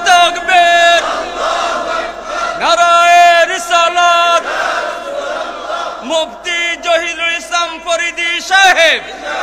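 A large religious crowd shouts Allahu Akbar in unison, loud and close, in repeated bursts that answer a preacher's call.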